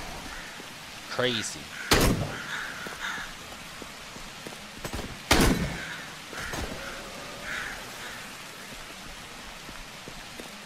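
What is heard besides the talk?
pouring rain in the video game Dead Frontier 2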